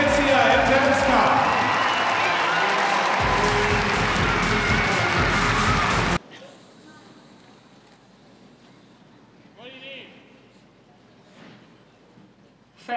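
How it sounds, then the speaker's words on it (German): Audience at an indoor athletics meet, a youth TalentsCup event, applauding the kids: dense, loud clapping and crowd noise for about six seconds that cuts off abruptly, leaving a quiet hall with faint sounds. "Und der große Applaus an unsere Kids hier im TalentsCup."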